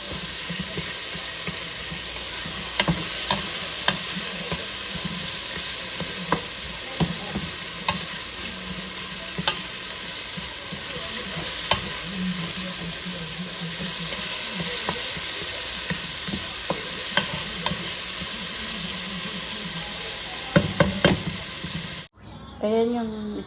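Tomatoes frying in a pot with steady sizzling throughout, broken by the scrape and clink of stirring; a brief louder clatter comes near the end.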